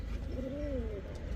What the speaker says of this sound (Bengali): এখন দেখাবো এক জোড়া খুলনার ঐতিহ্যবাহী গলায় লাল কবুতর।